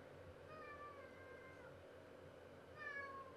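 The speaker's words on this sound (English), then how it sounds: "There's a cat meowing at me very loudly." A cat meows loudly twice in the video game My Time At Portia, two drawn-out calls with a gap between them, heard over a steady background of game ambience.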